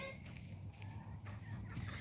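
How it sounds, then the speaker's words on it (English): Several chickens cluck and murmur softly at a moderate distance, with faint overlapping calls and background hiss. "Here are the chickens."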